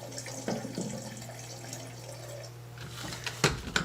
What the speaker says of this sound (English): You can hear it draining already.